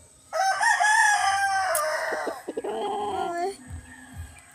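A rooster crows loudly close by, one long drawn-out call that trails off, with a few faint clucks and rustles afterward.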